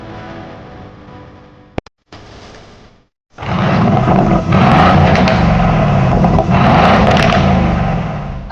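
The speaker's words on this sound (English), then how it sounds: "That is the sound of the quad exhaust from this magnificent car" Aston Martin V8 twin-turbo with quad exhaust: after a brief blip and a short silence, the engine bursts into a loud, sustained roaring rev that holds strongly for several seconds, close and dominant.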